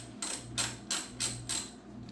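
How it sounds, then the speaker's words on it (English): Bolts holding the windscreen of a Hayabusa motorcycle being loosened with a hand tool, giving five quick, evenly spaced ratcheting bursts close by over a steady low hum. "I'm gonna start by removing this bolt and this bolt."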